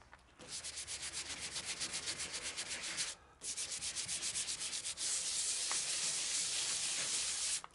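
Hand sanding bare car body metal with 240-grit abrasive, rapid rhythmic rubbing strokes close up, a short pause after three seconds, then steady back-and-forth scraping continuing to the end.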